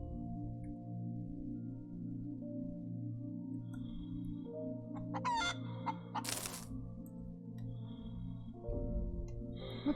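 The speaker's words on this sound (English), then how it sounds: "I just have a completely immortal, invulnerable chicken." An immortal chicken in the space survival game Breathedge clucks and crows alone against a steady electronic hum, with a few sharper bursts partway through.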